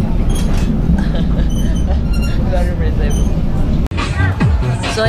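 A crowded LRT light rail train in Manila rumbles and rattles steadily under chatter from nearby passengers, with a sharp clunk partway through.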